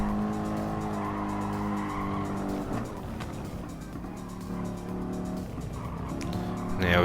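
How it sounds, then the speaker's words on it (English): Mercedes-AMG race car in Gran Turismo Sport, a loud continuous engine roar with shifting revs and tyre squeal as it laps the circuit, gear changes near the end. "Just appreciate the sound of the AMG here for a little bit."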